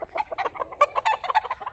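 Chickens on a farm, a quick burst of close, busy clucking and squawking from several birds over under two seconds, loud and uneven with no talk.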